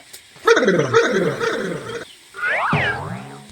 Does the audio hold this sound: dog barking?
yes